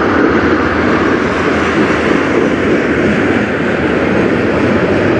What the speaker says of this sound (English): We should get another loco here in the middle somewhere, or he could be tailing, but that's rare.